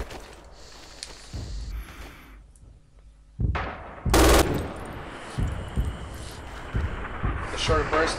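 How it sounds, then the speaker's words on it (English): An MG 42 machine gun in the video game Red Orchestra 2 fires a loud, short, rapid burst amid other distant gunfire, with someone talking over the battle. "The short bursts are so fast at firing that with a little recoil you're going to hit him with multiple bullets easily."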